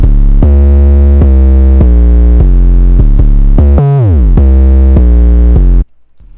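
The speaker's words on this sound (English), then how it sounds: "It's a really hard, grimy 808 with some like bounce notes" A hard, grimy 808 bass from a trap beat kit plays a loud, distorted repeating pattern of booming notes, with a bounce note and an octave note that slides steeply down, then cuts off abruptly.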